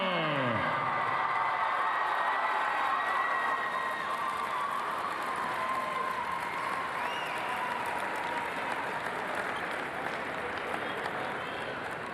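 Sustained applause from a crowd in a gym honoring the all-tournament team and MVP after the Class AA high school basketball championship game, loud and steady, with a few cheers over it.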